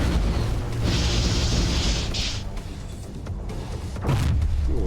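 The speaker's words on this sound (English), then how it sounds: "there's that big cannon" A heavy cannon booms in the space game X4: Foundations, a loud sustained blast with a rumbling low end followed by a second sharp report near the end, amid constant engine and combat noise.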